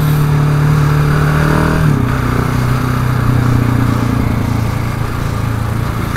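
Cars driving through downtown Encinitas, a loud continuous engine drone close by that drops in pitch partway through as a vehicle revs and passes, with steady traffic noise behind.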